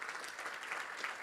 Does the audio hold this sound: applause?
yes